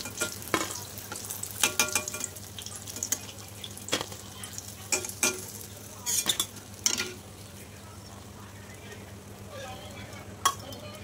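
Ash gourd stuffed fritters fry in oil with a soft, steady sizzle, while utensils clink and scrape against the pan in scattered sharp knocks as the fritters are lifted out.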